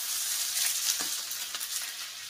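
Onion and capsicum fry in hot oil, a steady bright sizzle with brief crackling bursts throughout, close and fairly loud, with no talking.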